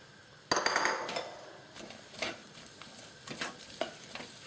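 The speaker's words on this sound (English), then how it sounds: "Fry the onions until it's soft" Onions frying in olive oil in a pan, a soft sizzle under sharp clinks and scrapes of a utensil stirring against the metal, with scattered knocks.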